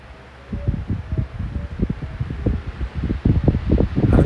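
A vintage 1975-76 Patton High Velocity Fan spins up after a short quiet moment, a low fluttering, pulsing drone of blades and motor that grows steadily louder and rougher.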